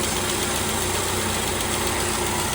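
Saab NG900 car engine idling after a crankshaft seal and oil pump O-ring replacement, a steady, loud, even hum close to the mic with constant mechanical vibration and no talk.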